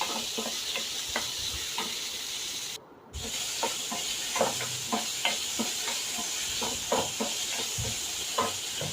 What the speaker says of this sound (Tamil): அதையும் நல்லா வதக்கி விட்டுக்கிறோம்.